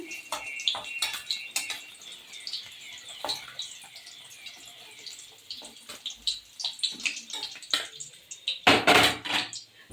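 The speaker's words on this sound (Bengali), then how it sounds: "এবার আমি পনিরগুলো নামিয়ে নিচ্ছি।" Fried paneer is lifted from a pan with sharp metallic clinks and scrapes of a utensil against cookware. The knocks are scattered and close, and a harsher clattering burst comes near the end.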